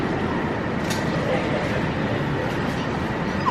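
A train runs along its rails with a steady, broad rumble from on board, and faint voices murmur beneath the noise.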